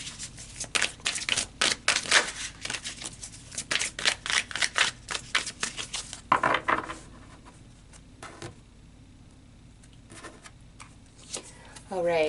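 Tarot cards being shuffled and pulled, a rapid burst of dense riffling snaps and card slaps for several seconds, then quieter scattered flicks and card handling, close and fairly clear with no talking.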